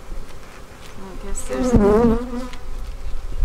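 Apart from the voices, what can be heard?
honey bees buzzing at beehive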